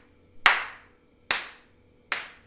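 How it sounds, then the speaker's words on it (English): Three sharp, high-pitched hand claps, made with four fingers striking the center of the palm, ring out alone at an even pace, each with a crisp attack and quick decay. "I'm clapping my four fingers over here right in the center of my clap."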